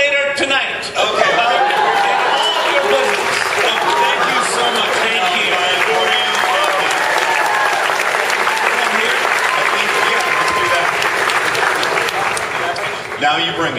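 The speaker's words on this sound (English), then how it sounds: "Let's give another round of applause for those biceps and vascularity" Sustained audience applause fills the room at a talk-show taping, dense and steady for the whole stretch, with scattered cheers and laughter mixed in.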